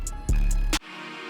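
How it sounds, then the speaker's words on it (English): A violin-style synth pad from the Nexus plugin plays a short layered melody pattern, with sustained bowed tones and a few bright attacks, then the pattern changes to a thinner held chord. "I grabbed this violin pad type thing and layered the same pattern that sounds like this"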